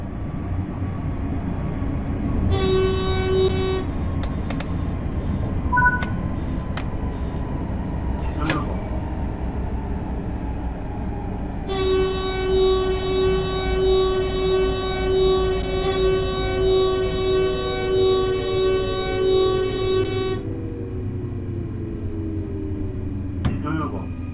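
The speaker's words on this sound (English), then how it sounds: "Begin applying a small amount of braking force to bring the train to a gentle stop." A steam train in Train Sim World 3 slows to a stop, its low rumbling running continuously with long tonal whistle or horn blasts sounding over it.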